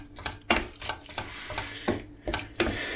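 Pasta being stirred vigorously through a thick Amatriciana sauce of homegrown cherry tomatoes in a pan, giving close, irregular scraping knocks and wet clatters of the spoon against the pan, several sharp strokes among a steady low sizzle.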